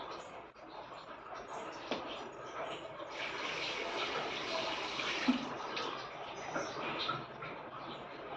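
Tap water runs and splashes continuously as hands are wetted before washing the face, a steady moderate rush with small bumps of splashing.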